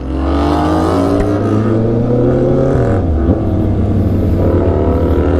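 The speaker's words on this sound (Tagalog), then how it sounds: "Ang ganda talaga ng exhaust niya." A Honda CB650R motorcycle exhaust revving close up, a loud, sustained engine note that holds high, then drops in pitch and settles into a throaty rumble.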